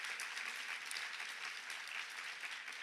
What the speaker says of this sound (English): So let's give them a big round of applause as well.